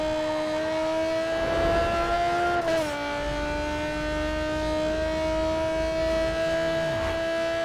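Modded car engine in Need for Speed Underground 2 roaring with a steady harmonic drone, dipping in pitch as it shifts down midway, then holding a loud even tone to the end, no talk.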